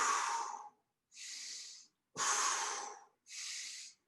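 Four heavy, breathy exhalations in a steady rhythm during face pull exercises with a weighted bag, each lasting under a second with short silent gaps between, close and clear with no talking.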